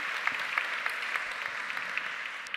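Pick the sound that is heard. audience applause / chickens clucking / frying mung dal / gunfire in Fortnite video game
audience applause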